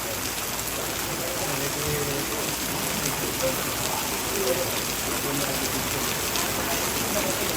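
Dense, steady rainfall pours down in an even hiss during a funeral consolation service at a tongkonan, with faint indistinct voices murmuring underneath.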